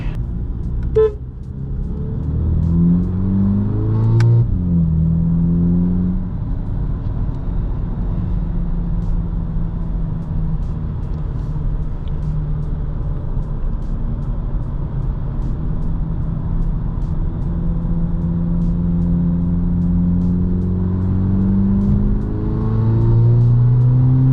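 A 2.0-litre VW Polo GTI drones steadily while driving, its engine and exhaust note rising and falling through revs, loud and close from inside the cabin, with a brief sharp tone near the start.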